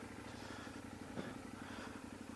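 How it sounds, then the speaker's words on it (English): A 1000cc Austrian-built, fuel-injected KTM trail motorcycle engine holds a steady, even drone throughout, close and fairly constant in level with no talking. "1000cc KTM. So yes, basically a 1000cc trail bike,"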